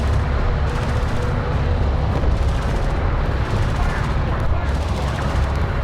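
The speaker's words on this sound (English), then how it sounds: "Enemy railgun firing on friendly" Heavy weapons fire from a railgun in the real-time strategy game Homeworld: Deserts of Kharak, a dense, continuous rumbling barrage of booms and blasts with radio-style voices over it.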